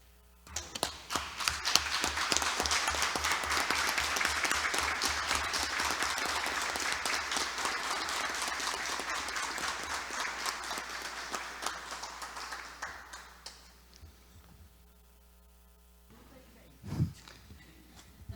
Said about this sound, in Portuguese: eu gostaria do quebra de protocolo e dar uma salva de palmas para o Daniel Lucena.